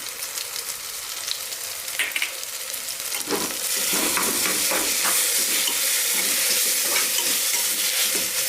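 Chopped onion and tomato sautéing in oil in a pan for Maharashtrian masala bhat, a continuous sizzle that swells louder midway, with intermittent spatula scrapes and stirring clicks.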